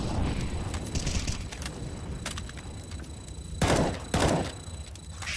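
Gunfire in the game Payday over a dense, noisy combat backdrop, with scattered distant cracks and two heavy, close blasts in quick succession near the end; no speech.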